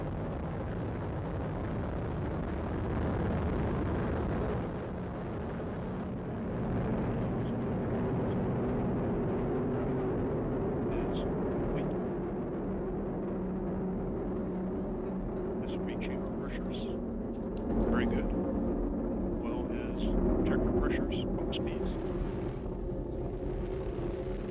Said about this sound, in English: We have ignition and liftoff of the United Launch Alliance Atlas V rocket carrying the 4th space-based infrared system for the United States Air Force